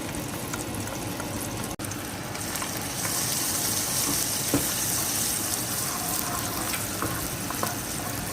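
Sardines fry in oil in a pan with garlic, a steady loud hiss and crackle that runs throughout, with a brief dropout early on and occasional pops.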